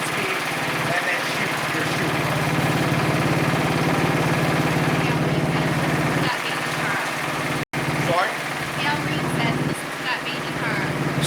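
A Honda HSS928AT snowblower engine fires up and runs steadily, a loud, constant small-engine drone close by that holds for the whole stretch, with a brief dropout near the end before it carries on.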